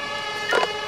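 An ambulance siren in the emergency-services video game Emergency 5 gives a single brief wail, rising clearly above a steady tonal background and ending almost as soon as it starts.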